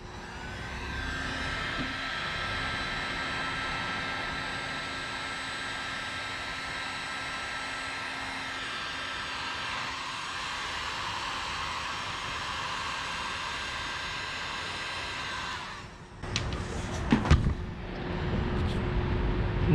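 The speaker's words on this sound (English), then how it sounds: "Let's get the heat gun and shrink them down." A heat gun blows a steady, loud broadband roar for about fifteen seconds while shrinking heat shrink tubing over crimped wire connections on a Lexus IS300 engine harness, then cuts off, followed by a few handling clatters and knocks.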